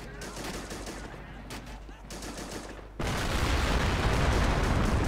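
A Carl Gustaf recoilless rifle fires in the Men of War 2 video game, a sudden loud blast that cuts in over ongoing gunfire and battle noise, followed by a sustained dense roar of combat.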